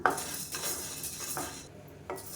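Black urad dal and rice dry roasting in a pan with a small piece of dry ginger and a cardamom, stirred with a spoon that scrapes and clinks against the metal in a few repeated strokes, with a faint steady background hiss.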